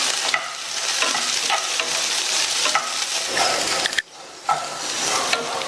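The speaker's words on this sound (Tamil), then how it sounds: "இந்த காய் நல்லா எண்ணெயிலே வதங்கி சாஃப்டாக வரட்டும்." Okra pieces sizzle and crackle loudly in hot oil in a pan, with stirring scrapes throughout and a brief dip in the sizzle near the end, close and with no talking.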